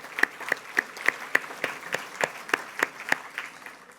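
Audience members at a conference opening plenary clap in a slow, even rhythm, with about a dozen distinct, crisp claps spaced evenly, fairly close, with no chatter between them.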